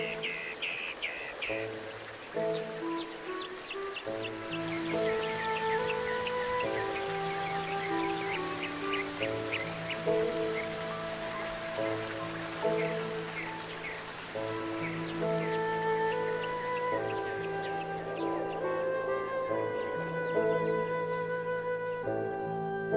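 Rain falls in the Eternal Sonata video game, a steady soft patter under layered melodic music with bright bell-like notes, continuous throughout and moderately quiet.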